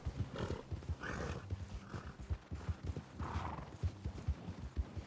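Horse hooves in the game RedM clip-clop in a steady trotting rhythm with occasional whinnies and snorts, fairly close and loud.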